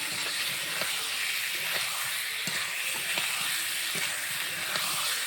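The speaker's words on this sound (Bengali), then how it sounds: "এখন আমি ভেজে রাখা পটল আলু ঢেলে দেবো। সুন্দর করে কষিয়ে নেব।" Fried pointed gourd and potatoes sautéing in spice paste, giving a steady broad hissing sizzle with faint intermittent spoon knocks, close and even throughout.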